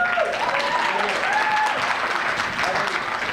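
Steady applause from a crowd fills the whole stretch, loud and continuous, with a voice speaking over it.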